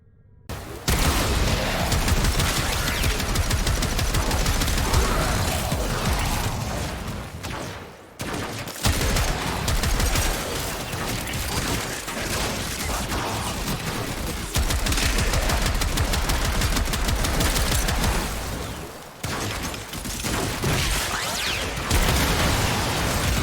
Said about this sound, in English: big ass Necromech modified to a standard Warframe rifle known as the Trumna